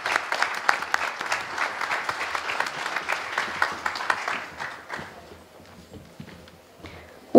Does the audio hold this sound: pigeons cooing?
no